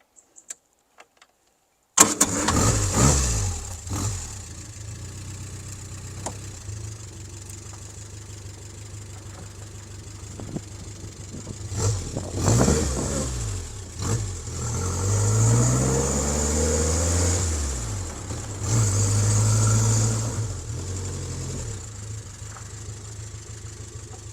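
A 1950s car engine cranks and catches after a short silence, then idles with a knocking mid-range rumble and rises through several revs up and down, alone with no voices.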